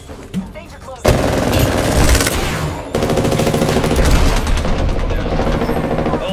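Hemlock rifle gunfire in a video game on single fire, a dense run of loud sharp shots starting abruptly after a quiet lead-in and continuing with a brief break, with some voices underneath.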